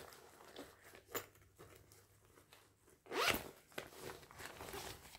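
The zipper on a bag's zippered pouch gives a quick, close rasp near the middle, set among soft rustling and handling noises of the bag.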